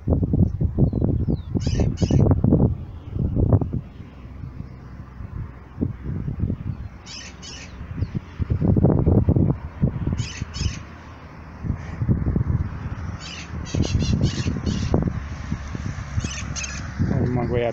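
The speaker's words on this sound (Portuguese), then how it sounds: "tico-tico cantando ao fundo" A rufous-collared sparrow (tico-tico) sings in the background of a Brazilian garden with a pitaya plant and a guava tree. Its short, bright, repeated calls sound faintly at intervals while a person talks in the foreground.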